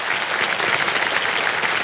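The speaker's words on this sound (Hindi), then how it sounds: "एक बार तालियां बज जाए अर्चना जी के लिए" Studio audience on the KBC quiz show set claps for a contestant, a dense, steady burst of applause that holds evenly loud from start to finish with no voices over it.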